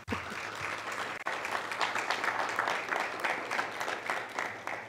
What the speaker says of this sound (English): I just want to give our amazing teachers a round of applause